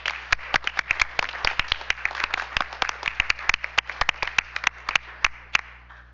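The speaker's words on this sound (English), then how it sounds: "let's give them another round of applause" Audience applause for award winners at a school board meeting, a steady stream of sharp, distinct hand claps from a modest crowd, fairly close and continuous, over a low hum.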